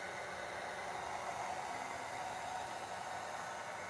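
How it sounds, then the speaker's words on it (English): A fan blowing from the far end of a painting studio, a steady, faint, broadband whoosh of moving air that holds even and unbroken throughout. "I have a fan at the far end of the studio that I can aim over here"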